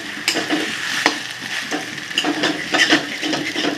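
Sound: stirring potato paratha filling in hot oil

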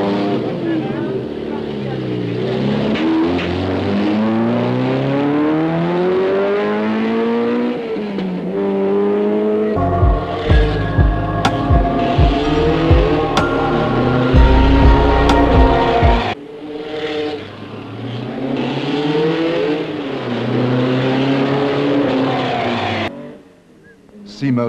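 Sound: Lancia homologation special rally car engine

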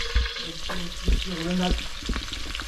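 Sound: onion frying in pan on wood stove

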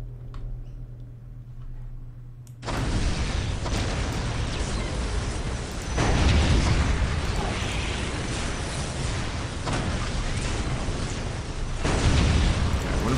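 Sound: explosions from a strafing run in the video game Dawn of War: Dark Crusade

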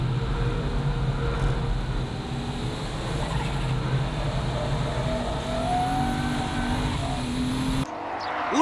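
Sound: tuned Toyota Chaser JZX100 racing and drifting at Tsukuba

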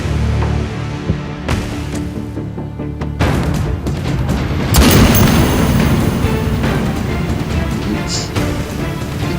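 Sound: gunshot fired at a target

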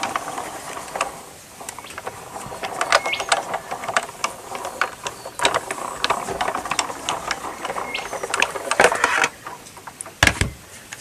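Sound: Sizzix die-cutting machine being cranked

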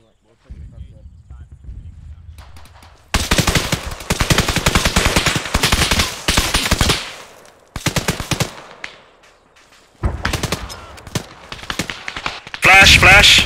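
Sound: gunfire from enemy in video game ArmA 3

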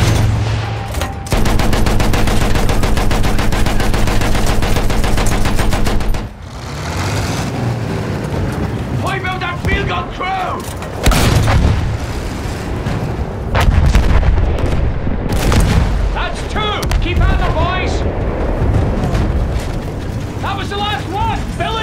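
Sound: gunfire and shelling in video game Battlefield 1

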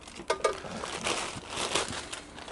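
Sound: plastic bag crinkling while unboxing Campmaid grill kit

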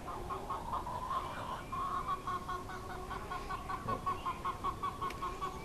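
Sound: chickens clucking

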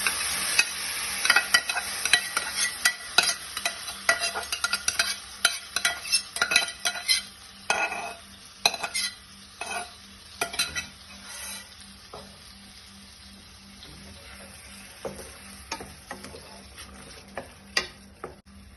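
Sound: stirring curry in a pan

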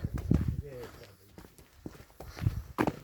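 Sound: young mare walking, hooves

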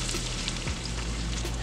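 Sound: sauteing celery and onion in a pan

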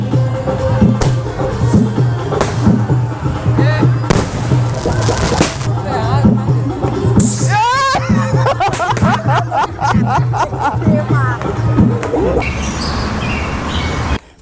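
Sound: firework rockets launched

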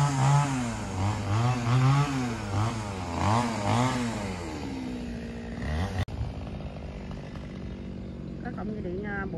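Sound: chainsaw cutting a tree

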